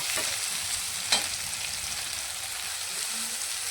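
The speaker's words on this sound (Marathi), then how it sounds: "हा मसाला भाजत असताना याला बारीक गॅसवरती भाजून घ्यायचा।" Chicken curry masala roasts over a low gas flame in a pan, giving a faint, steady sizzle with a single soft stir or scrape near the start.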